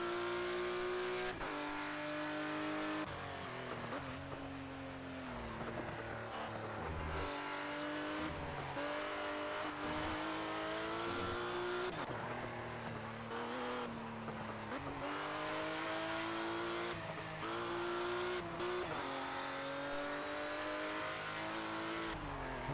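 Race car engine from the Project Cars video game, loud and continuous with rising and falling revs through gear changes and corners, occasional tire squeal, filling the whole stretch with no talk.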